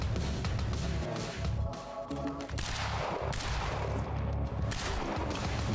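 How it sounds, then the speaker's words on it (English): Gunfire from Quantum Break, shots fired through an enemy's shield in a third-person shooter firefight: loud, rapid bursts of shooting over a dense battle din, with little talking. "I can actually shoot through the shield."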